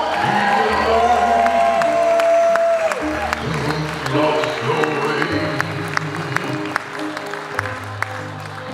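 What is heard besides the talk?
applause and cheering for the bride and groom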